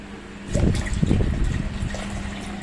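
Water poured into a soy milk maker jug while making oat soy milk, a steady splashing pour that starts half a second in and carries on close and fairly loud to the end, no talking.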